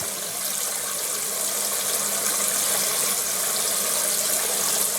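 Water pours and splashes into a bucket of freshly harvested Swiss chard, a steady close rushing gush with no talk.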